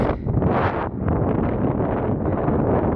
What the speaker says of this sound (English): Alright, so the wind's pretty crazy up here.